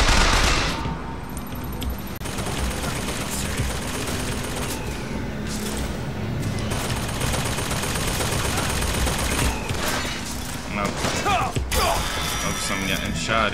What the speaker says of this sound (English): I'm getting shot again